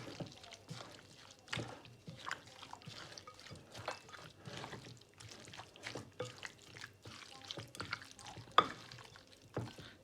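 Chicken marinated in orange juice is stirred in a bowl, giving close, wet squelches and liquid slaps in an uneven rhythm, fairly quiet.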